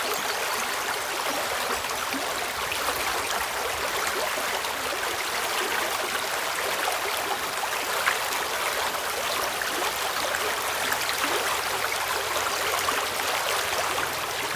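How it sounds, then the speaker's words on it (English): Clear water of the River Itchen flows along a towpath at Shawford in Hampshire, a constant hissing, gurgling rush close by, steady and unbroken for the whole stretch, with no voices. "And the water flows more or less all year as it comes out the short rises."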